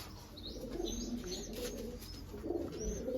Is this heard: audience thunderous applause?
no